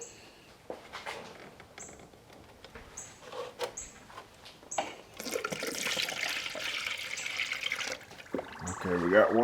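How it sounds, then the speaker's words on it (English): Water spurts and gurgles from the opened radiator bleeds on a salvage Audi S5, an irregular splashing and hissing that swells toward the end, with a voice talking over it and a few faint short beeps. "we got water coming out the bleeds."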